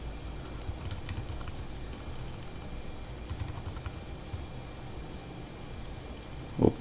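Fast typing on a computer keyboard while writing a Java exercise, a steady close patter of key clicks throughout with a sharper clack near the end, no voices.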